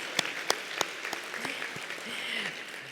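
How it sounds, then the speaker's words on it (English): A conference audience claps for the event staff, a thin, scattered round of applause with a few sharp, close individual claps early on and faint murmuring voices underneath. "can we give a round of applause for our staff too?"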